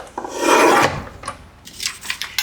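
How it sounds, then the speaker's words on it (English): A blade trims the rough edge of a book page with a close, loud rasping scrape that lasts about half a second, followed by a few shorter, fainter rubbing strokes of paper. "I'm going to trim mine down just a little bit, just so that I have a smooth edge."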